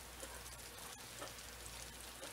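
Steak fajitas sizzle steadily in a hot pan, a dense continuous crackle and hiss with no pauses and no voices.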